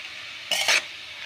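A spoon stirring radish palya in a pan, a short scraping swish that comes in two quick strokes over a faint background hiss, close and fairly quiet.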